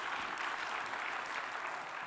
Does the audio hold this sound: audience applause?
yes